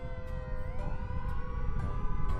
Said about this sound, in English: Does anyone else hear a siren?